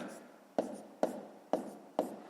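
A pen writes numbers by hand on paper during a maths exercise in four quick, evenly spaced scratching strokes, close and clear, with no one talking.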